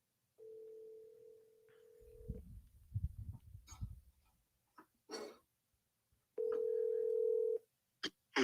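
Steady telephone ringback tones sound on a line while a guest is being called, two long flat beeps separated by throat clearing, rustling and a few sharp clicks, clear and fairly quiet.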